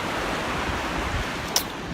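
Ocean water washes steadily as a constant soft broadband hiss and rumble, close and even, with a single faint click near the end.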